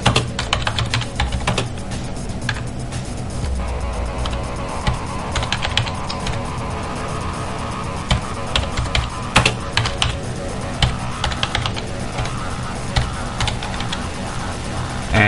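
Typing a sudo apt-get command into a Linux terminal on a computer keyboard, a fast continuous patter of close, loud key clicks with no pauses, over a steady background hum.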